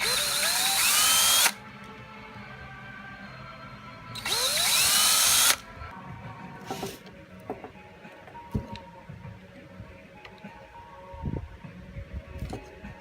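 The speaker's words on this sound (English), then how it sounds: "We're gonna drill some holes" Two loud bursts of a power drill whirring, each about a second and a half, followed by quieter clattering and handling noises.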